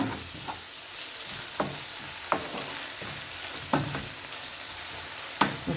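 Onions and vegetables fry in a pan with a steady, moderately loud sizzle, broken by a few sharp stirring clacks spaced a second or two apart.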